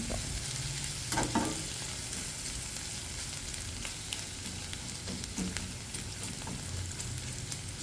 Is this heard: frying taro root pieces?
yes